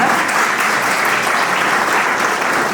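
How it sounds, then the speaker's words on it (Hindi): Steady, dense applause fills the hall at a play school's annual day celebration. It is even and continuous throughout, with no voices over it. "थोड़ी तालियां बजा दीजिए साथ।"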